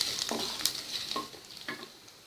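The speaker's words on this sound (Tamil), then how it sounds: "போட்டு லேசாக கலந்து விட்டுட்டு," Asafoetida, curry leaves and coriander tempering in hot oil for curd rice crackle and sizzle continuously, with a few quick stirring scrapes in the pan.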